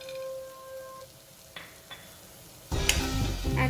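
Chopped almonds and cashews roasting in a pan, quiet at first with a couple of light taps, then a sudden louder burst of sizzling and stirring near the end.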